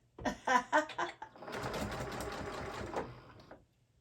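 Sewing machine back-stitching green thread on a fabric pet sling, a few short stitch bursts followed by a steady run of close, whirring stitching that stops abruptly.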